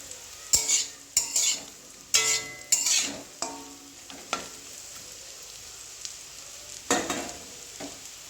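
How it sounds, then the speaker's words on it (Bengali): Egg and gram flour mixture frying in a pan for egg bhapa, stirred with a utensil, giving several sharp scraping strokes over a soft sizzle, with pauses between bursts and a few more stirs near the end. "একটু খোড়া খোড়া করে ভেজে নিতে হবে লাল লাল করে"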